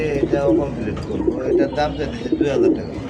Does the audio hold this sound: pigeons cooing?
yes